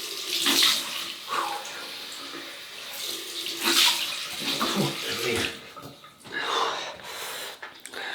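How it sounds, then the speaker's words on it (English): Cold tap water runs steadily into a sink for a rinse during a wet shave with an Edwin Jagger DE89L razor and lime shaving cream, with irregular splashing bursts, close and moderately loud throughout. "Right, cold water rinse and we'll stay wet."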